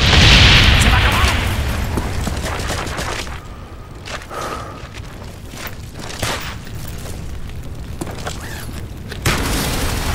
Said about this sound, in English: Napalm strike coming in.